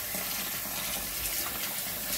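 Oha leaves being rinsed in a sink under running tap water, a steady close splashing wash that fills the whole short stretch with no talking.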